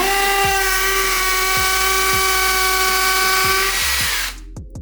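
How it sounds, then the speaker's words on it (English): A power drill drilling into a brick wall whines steadily at high speed with a rhythmic chattering underneath, loud and close, then cuts off abruptly near the end. "use this when you're drilling holes"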